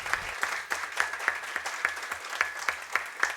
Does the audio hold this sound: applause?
yes